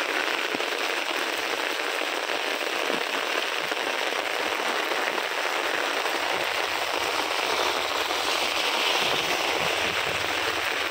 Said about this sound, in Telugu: నిన్నటి నుంచి పడతానే ఉంది వర్షం.